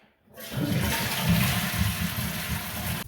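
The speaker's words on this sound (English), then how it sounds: "I'm going to flush the toilet to get the water in the tank" A toilet flushes to refill its tank during a Moen bidet installation, a loud close rushing gush of water that starts abruptly and pours steadily to the end, with no talking.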